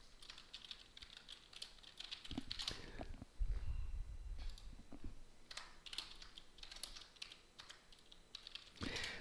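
Quick, uneven keystrokes on a heavily worn computer keyboard, close and fairly quiet, with bursts of clicking broken by short pauses and a low thump partway through.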